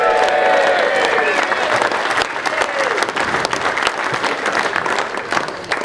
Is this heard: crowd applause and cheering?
yes